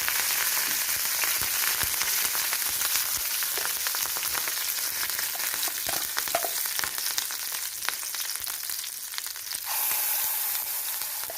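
Curry leaves dropped into 2 to 3 teaspoons of hot oil in a pan for fish masala fry: a steady, loud crackling sizzle with faint stirring, no voices.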